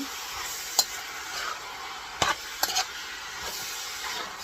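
A spoon stirs dinuguan, a pork blood stew, in a pot, giving a few soft scrapes and knocks over a steady low simmering hiss, close but faint, with no voices.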